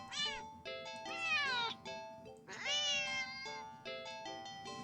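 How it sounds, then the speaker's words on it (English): A cat meows sharply several times in a row, with a few drawn-out, rising and falling cries and shorter calls in between, close and clear over a quiet background. "the cat meows sharply at you and dashes off around the corner and into the hall"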